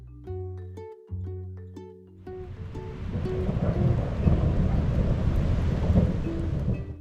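A thunderstorm near Grand Haven follows a few seconds of music: a steady, loud rumbling roar of thunder and rain that continues to the end.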